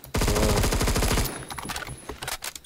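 Rapid automatic fire from an arm pistol in the Phantom Forces shooter game, a loud burst of closely spaced shots lasting about a second, followed by quieter scattered gunfire and game noise.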